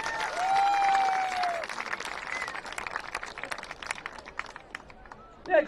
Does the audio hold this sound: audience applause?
yes